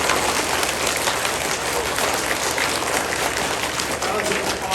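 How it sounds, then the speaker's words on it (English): A dense, steady wash of clapping from a crowd at a fifth-grade DARE graduation, a second round of applause for the graduates that holds throughout, with voices mixed in beneath it. "I think they deserve a second round of applause"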